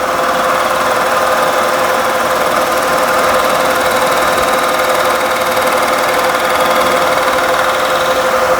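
A milling machine runs steadily while cutting dice held in a vise, giving a loud, continuous mechanical hum with a sustained whine and no pauses.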